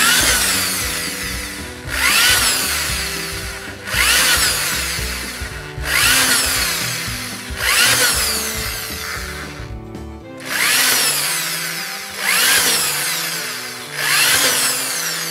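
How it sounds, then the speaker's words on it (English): A power drill bores hole after hole through the bottom of a plastic food-grade bucket, loud and close, in repeated bursts roughly every two seconds with brief pauses between, and no talking. "all we're going to do is just literally drill hundreds of holes in the bottom of one of these buckets"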